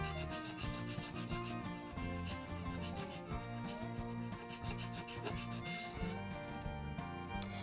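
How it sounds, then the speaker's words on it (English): Dry wood of a painting frame being hand sanded along the grain: steady, rhythmic back-and-forth rasping strokes, close and fairly quiet, with no talking. "I'm sanding toward the grain, so the grain is horizontal in that area"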